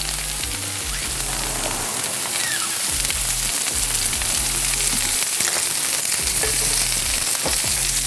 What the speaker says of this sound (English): So we're gonna let that sizzle